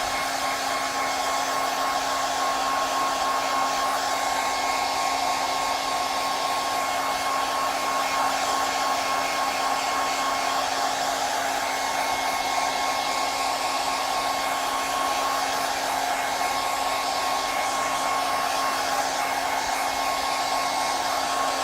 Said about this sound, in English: I'm gonna actually go ahead and blow dry my canvas